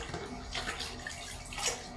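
Water poured into a bucket, six litres for homemade fabric conditioner, a steady splashing rush that runs continuously without pause.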